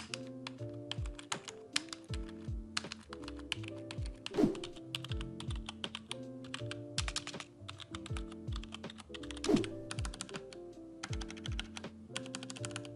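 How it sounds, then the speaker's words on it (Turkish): Rapid keystrokes clatter on a computer keyboard, an uneven stream of close, crisp clicks with a couple of heavier thumps like the space bar. "Görmüş olduğunuz 3 klavyenin ses testini yapacağız."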